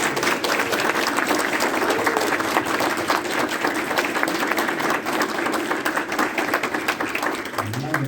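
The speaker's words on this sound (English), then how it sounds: "Let's give a big, huge round of applause." A fan-convention crowd at Texas Frightmare applauds during a Q&A with actress Melinda Clarke: loud, sustained clapping from many people for eight seconds, with some voices mixed in underneath.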